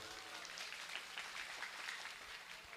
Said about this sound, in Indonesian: tepuk tangan untuk dewan guru